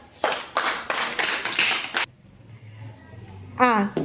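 Schoolchildren in a classroom clap in a quick, dense round for about two seconds. A quiet pause follows, then a voice starts speaking.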